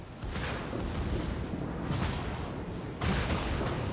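Battleship secondary guns firing in World of Warships, a dense rumbling barrage of booms with a couple of stronger blasts standing out, loud and continuous.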